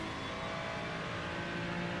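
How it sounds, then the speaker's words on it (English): A BMW GT3 race car engine in the iRacing sim drones steadily throughout, a continuous, even engine tone with no clear rev peaks or gaps. "I do like the way this car sounds."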